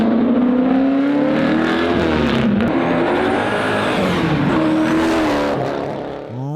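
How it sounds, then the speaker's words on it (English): A Mopar car with a 9-liter Mercury racing motor and two 94 mm turbos revs hard up close, a loud sustained engine roar with rising and falling pitch that tapers off near the end. "You got a 9-liter Mercury racing motor, which if that's not enough for you, you've also got two"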